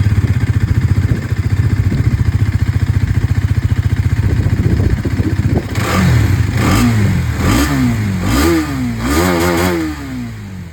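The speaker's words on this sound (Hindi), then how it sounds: "तो ये दोस्तों आप लोगों ने यहाँ पर एक्सट्रीम 250R को सुन लिया" Hero Xtreme 250R motorcycle engine idling with a steady mechanical clatter, then revved in several sharp throttle blips that rise and fall, loud and close with no voices.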